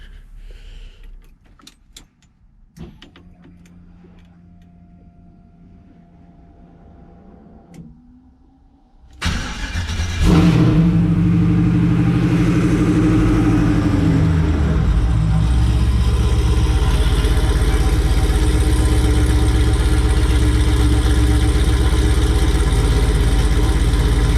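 After a quiet stretch of faint clinks and keys, a Chevrolet Monte Carlo engine turns over and roars to life. It then holds a loud, steady idle.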